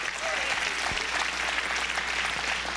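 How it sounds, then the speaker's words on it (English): A church congregation claps steadily during a deliverance service, a dense, even patter of many hands throughout the short stretch. "Give him a real good clap offering."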